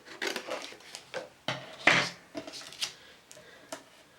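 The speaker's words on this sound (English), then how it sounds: "I'm going to trim this down because I don't need to waste the whole piece of card" Cardstock being roughly trimmed down to size for a stamping and stenciling card project, heard as a quiet, irregular series of close snips and rustling cuts with no talking.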